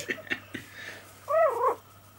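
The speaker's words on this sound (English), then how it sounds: "Are you growling, Squeak Pig?" A Pomeranian puppy lets out a short, low growl near the mic, about half a second long, after a few soft thumps and shuffles.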